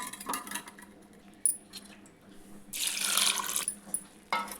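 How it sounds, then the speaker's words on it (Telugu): Water poured into a cooking pot of spinach dal being made with turmeric, heard as a close, bright splashing pour lasting about a second, with a few brief clinks and taps of kitchenware before and after. "ఇంకొన్ని వాటర్ వేసుకుందాం"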